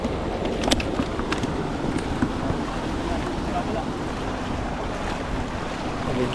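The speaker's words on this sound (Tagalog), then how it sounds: "Lumakas yung agos ngayon." A strong river current rushes past an old dam in Taiwan as a loud, continuous broadband roar with wind noise buffeting the microphone throughout.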